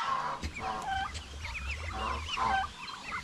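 Several male turkeys on a small farm gobble and cluck in bursts, warbling calls overlapping near and mid-distance, with other fowl chattering faintly around them.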